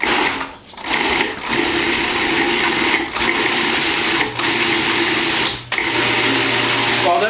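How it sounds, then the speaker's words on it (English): A blender pureeing tortilla soup, loud and steady motor whir with churning liquid, briefly cut off and restarted several times in short pulses. "And give this a little puree."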